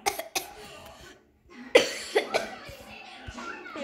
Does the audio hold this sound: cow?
no